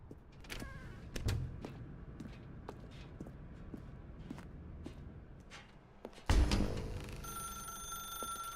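A telephone rings in The Stanley Parable video game, its bright tonal ring starting abruptly near the end after a stretch of soft footsteps and faint clicks in a quiet interior.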